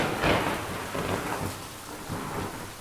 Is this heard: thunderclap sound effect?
yes